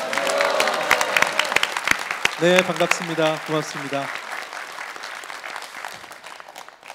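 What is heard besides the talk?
audience applause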